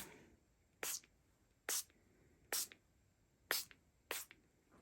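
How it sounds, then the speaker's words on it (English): Five short hissing bursts from an aerosol can of iced silver shimmer spray, evenly spaced with quiet gaps between them, close by. "I'm going to take the shimmer spray, which is the iced silver, and I'm going to spray this also."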